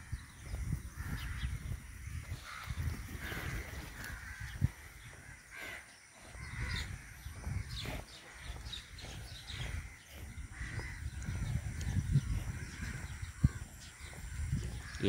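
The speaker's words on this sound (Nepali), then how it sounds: "कागहरूको पार्टी निरन्तर चलिरहेको छ र उनीहरूको चिचहट यही देख्न सक्नुहुन्छ" A flock of crows caws repeatedly beside a lake in Pokhara, harsh calls overlapping in an irregular, busy chorus at moderate distance over steady outdoor ambience.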